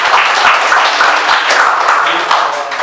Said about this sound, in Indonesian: Kita kasih tepuk tangan dulu untuk kawan kita.